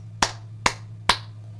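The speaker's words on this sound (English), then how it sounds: "Round of applause, everyone." Three sharp, evenly spaced claps ring out in a quiet setting over a low steady hum, each a single crisp hand clap with a short decay.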